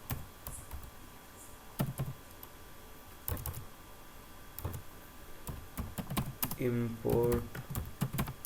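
Python code is typed on a computer keyboard in scattered bursts of close, crisp key clicks with pauses between them, and someone speaks briefly near the end.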